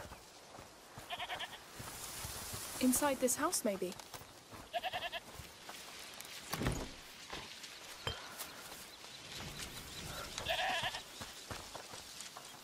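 Goat bleating in the video game A Plague Tale: Requiem, a few wavering cries heard at moderate distance amid game ambience, with a voice speaking briefly over it.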